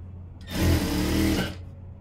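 A sewing machine runs a single stitching burst of about a second along the edge of a blouse, its fast mechanical whir starting and stopping abruptly in a quiet room.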